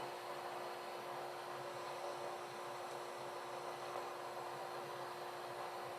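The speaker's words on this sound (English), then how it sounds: "The thing that I really like about this new dust handling system is how quiet it is" A quiet dust handling system runs steadily in a home workshop, giving an even, smooth broadband whir with a faint tonal hum, constant and unbroken throughout with no voices.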